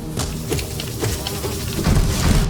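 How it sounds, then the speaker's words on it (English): A swarm of bees buzzes steadily in a Hollow Knight hive area, the dense insect drone loud and continuous beneath scattered game effects. "See, there's like 3 billion bees in here."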